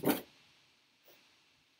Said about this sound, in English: Can you guys hear my dogs just, like, freaking out?